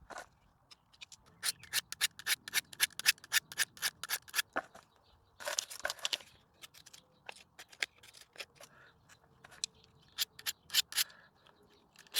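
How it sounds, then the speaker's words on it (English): Sharpened cutting blade snipping through paper in rapid bursts of crisp, dry clicks and rustles, close and fairly loud with short pauses between runs. "once you're cutting the paper nice and sharp like that"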